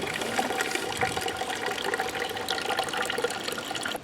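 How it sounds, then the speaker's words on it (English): Fresh apple juice gushes steadily out of a homemade fruit press, a continuous close splashing pour that runs unbroken with no talking. "Every time you go all the way around, it really gushes out."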